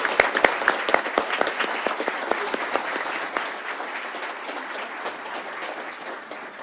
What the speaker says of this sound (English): If you would join me in a round of applause to an amazing organization.